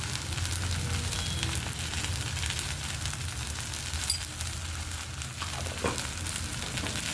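Onions frying in a pan with salt for a kari masala, a dense steady sizzle and crackle running throughout with occasional stirring scrapes, close and even in level, with no talking.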